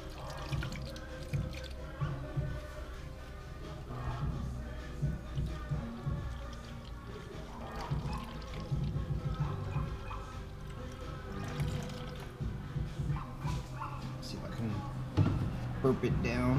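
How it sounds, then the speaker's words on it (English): Coolant pours and gurgles steadily into a Nissan 240SX radiator, with splashing and trickling throughout and someone talking over it. "I gotta just put some coolant in there"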